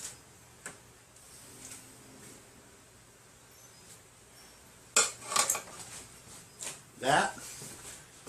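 Clean spoon being fetched from among dishes and cutlery, with a few sharp metallic clinks and clatters near the end after quiet background, while a voice talks.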